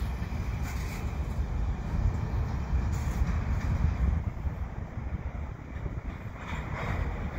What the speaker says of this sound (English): I'm gonna get this train backing up around the water curve.